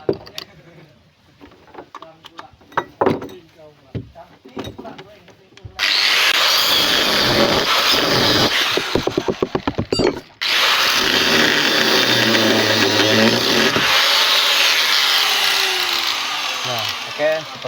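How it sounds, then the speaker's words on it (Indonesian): A power tool cuts off overlong bolts at a wooden boat frame joint. Loud, sustained grinding runs in two long bursts with a brief pause between, after a stretch of quieter handling taps and low talk. "Udah panjang bautnya dipotong."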